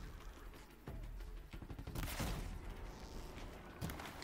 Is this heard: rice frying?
no